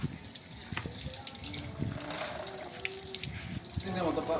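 Banana leaves being rinsed with running water in a village setting, a steady splashing, gushing flow close by with intermittent clatter, and voices talking underneath.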